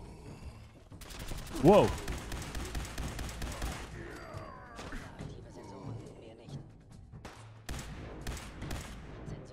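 Gunfire in Fallout 4 combat, a burst of sharp rapid shots followed by scattered single cracks and thuds over several seconds, with someone talking and exclaiming over it.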